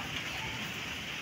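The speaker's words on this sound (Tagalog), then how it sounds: "Yan na siya, umuulan." Rain falls steadily in a brief, even hiss of dense drops with no distinct individual hits and no voices.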